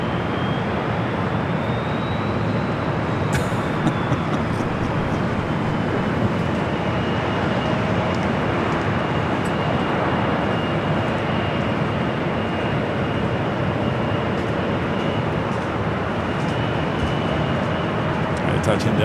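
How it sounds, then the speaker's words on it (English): A Delta A319 airliner touches down on the south runway at LAX, heard as a steady, continuous broadband roar of engine and rolling noise that holds at an even level throughout. "touching down there on the south side at 25 at left. Got this Delta A319"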